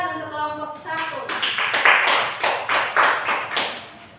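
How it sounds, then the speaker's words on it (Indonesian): Audience clapping for a student group after a classroom presentation, a run of distinct claps building from about one second, with a voice speaking at the start. "Tepuk tangan untuk kelompok 1."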